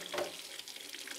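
Cold tap water runs steadily into a kitchen sink to cool a boiled egg, a brief close splashing hiss with no talk.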